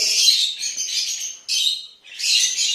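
Hand-fed baby bird chirping continuously in close, high-pitched bursts, with a brief dip near the two-second mark before the cheeping resumes.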